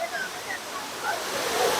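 A waterfall at a busy family bathing spot in Ernakulam, Kerala, pours with a steady, broad rushing wash of water that stays constant throughout, with a few faint voices mixed into the roar.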